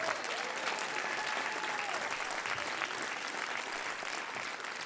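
Concert audience at a local live music show applauding and cheering steadily, a dense wash of clapping and crowd noise filling the whole stretch at even loudness.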